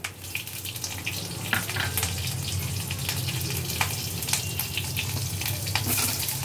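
Black cumin seeds and two green chillies frying in hot oil, a steady close sizzle and crackle running throughout with scattered sharper pops.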